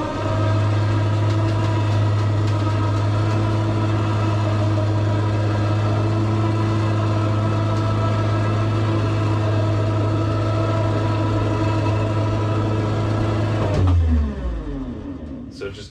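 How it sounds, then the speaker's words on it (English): An electric winch lowering a shipping-container bridge over a stream drones steadily with a low motor hum for several seconds, then winds down and stops near the end. "winch runs up here"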